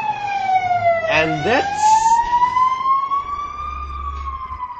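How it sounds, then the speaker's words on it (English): An ambulance siren wails loudly through the clip, its tone sliding and warbling as it passes close by on a road, with a short spoken phrase near the start and Battlefield 3 beta gameplay audio beneath. "that was a freaking ambulance walking right in the middle of my freaking commentary"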